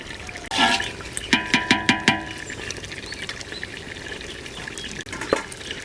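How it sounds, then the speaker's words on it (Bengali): Water goes into a handi of frying duck curry, hissing and sizzling hard, with a series of quick metallic spoon clinks as the pot is stirred, close and clear with no talk. "কষানো হয়ে গেছে এবার জল দিয়ে দিচ্ছি"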